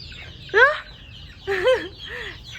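Several chickens cluck and squawk at close range while being fed corn in a backyard flock, with two distinct bursts of calls separated by a short lull and no talk.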